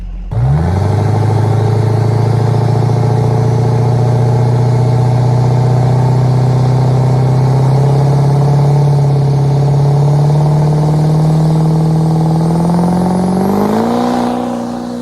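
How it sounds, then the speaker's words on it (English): A 4WD diesel truck on a 40 psi launch, loud and close, its engine and spinning tires holding a long steady roar for about thirteen seconds before the pitch climbs sharply at the end. "Truck spins for so long."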